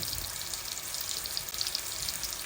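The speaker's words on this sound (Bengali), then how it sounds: "আমি চিংড়িগুলো দিয়ে দিচ্ছি এটার মধ্যে" Prawns go into a sizzling Bengali potol curry in a pan. A soft, even frying hiss continues for a couple of seconds, fairly quiet and with no one speaking.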